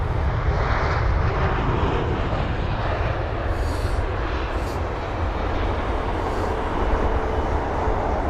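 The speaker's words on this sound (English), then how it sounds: "that A320 absolutely dropped that aircraft on the runway" Airbus A320-200 landing hard on a runway at London Heathrow, a loud, steady roar of jet engines and rushing noise that holds for several seconds without a break, with no voices.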